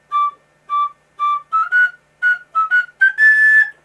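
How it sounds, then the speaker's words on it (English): A slide whistle plays a short tune: three identical separate toots, then a run of quick notes sliding upward and ending in a longer sustained tone, loud and close with no talking. "a slide whistle is more musical"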